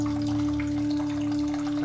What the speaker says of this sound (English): I'm peeing. I must have got diarrhea.